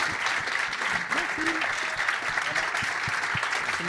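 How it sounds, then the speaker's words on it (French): The audience at a panel on addiction gives sustained, dense applause, with cheers and voices mixed into the steady clapping. "on peut les applaudir"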